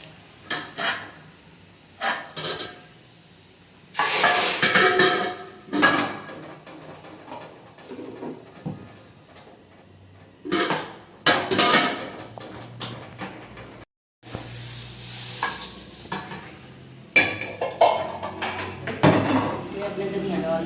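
Breakfast cooking in a pan with cumin seeds added: metal utensils clink, scrape and clatter against the cookware in short irregular bursts separated by quieter gaps, close to the listener.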